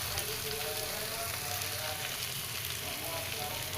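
Egg frying in a pan with sautéed bitter gourd gives a faint, steady sizzle and crackle, continuous and close, with no talk.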